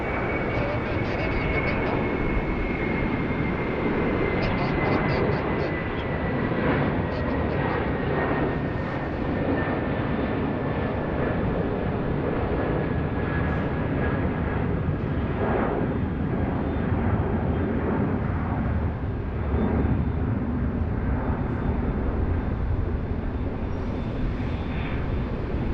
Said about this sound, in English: Qantas 922, they're getting underway. It's off to sunny Cairns.